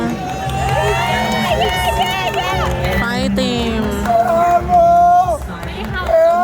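At the Miss Universe 2020 pageant, a crowd cheers and shouts loudly and continuously, with a babble of many voices and a few people yelling near the microphone.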